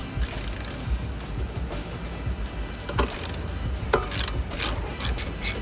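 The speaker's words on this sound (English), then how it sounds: "Using the same 10mm hex socket head, you're going to release the tension on the bolt." A 10mm hex socket on a ratchet loosens a tensioner bolt on a Mini RCR T3 rear axle, giving steady rapid pawl clicking close up, with a few sharper metallic ticks and no talking.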